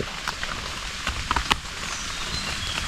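Steady rain falls through a forest during a mushroom foray, an even hiss of drops on leaves and ground with a few sharper close spatters, no voices present.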